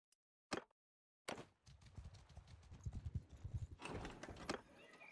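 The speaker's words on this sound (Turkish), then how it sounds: "Ne savaş atıymış lan? Gel buraya." A war horse's hooves clatter in a galloping clip-clop in the video game Mount & Blade II: Bannerlord, starting after a brief silence and a couple of isolated knocks, then rolling on continuously and fairly close.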